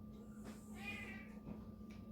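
A pet cat meows indoors, one clear drawn-out call, fairly faint, followed by quieter room sounds and no talking.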